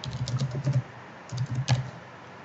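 Close keystrokes on a computer keyboard, two quick bursts of soft rapid clicking separated by a short pause, with no talking.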